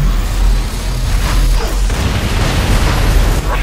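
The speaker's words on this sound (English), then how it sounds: "The Demolisher cannon is preparing to fire." Deep booming blasts and rumbling explosions from the Demolisher cannon in the video game X-Morph: Defense, with a loud, continuous heavy roar throughout.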